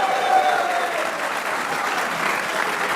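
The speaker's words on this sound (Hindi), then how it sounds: "आला कारकर्दगी पे शादाब के लिए भी तालियां होनी चाहिए।" Sustained studio applause for Pakistani cricketer Shadab after a loss to India, an even, full wash of many hands clapping at once, steady and fairly loud throughout.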